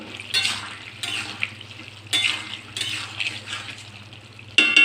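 A spoon stirs fried sesame seeds into a snake gourd curry in a pan. Scraping strokes come in repeated short bursts over a soft low sizzle, close and fairly quiet, with no voice.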